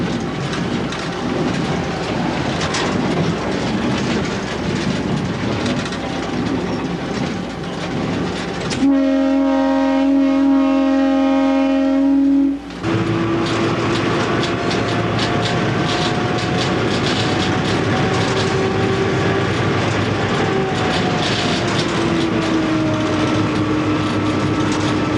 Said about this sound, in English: A non-turbocharged U-18B substitutes for our regular road power.